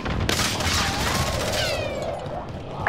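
An airstrike in Call of Duty Warzone, sounding as a sustained roaring barrage of rumbling blasts with a whining streak passing overhead, dense and loud for about three seconds.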